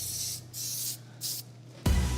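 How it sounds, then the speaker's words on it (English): Edible spray paint jetted onto an ice cream dessert in several short hissing bursts, close and loud, followed by a low thump at the end. "and then we'll spray paint it."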